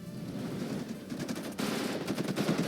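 Repeated 120mm mortar fire in the Warno real-time wargame, a dense run of booming impacts and rapid crackling gunfire that grows louder partway through, with no talking.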